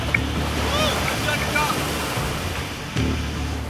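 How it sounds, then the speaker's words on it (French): Rescue boat at sea in 70 km/h wind with waves over three metres: a roaring wash of surf and wind buffeting the microphone, continuous and loud, with a brief dip near the end. "Un vent de 70 km/h souffle et une houle forme des vagues de plus de 3 mètres."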